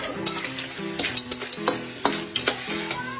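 Whole scallops are added to a hot pan of vegetables for a Creole-style rice dish, giving a bright, steady sizzle broken by scraping stirs and clinks of a utensil against the pan.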